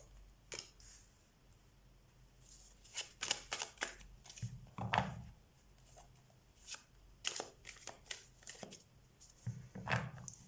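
Tarot cards being shuffled by hand, with repeated soft riffling and flicking bursts in an irregular rhythm, close and fairly quiet, no talking.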